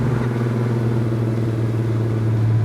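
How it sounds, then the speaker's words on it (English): A 1967 Hemi GTX convertible with a 4-speed drives along, its engine a steady, loud low rumble with a droning hum that holds evenly throughout. "This car drives really good."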